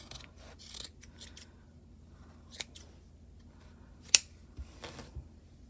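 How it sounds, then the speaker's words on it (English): A few sharp, brief snips of heavy-duty scissors cutting through yarn, spaced irregularly against a quiet background, with one louder snap near the end. "Now we're going to cut this using heavy duty scissors."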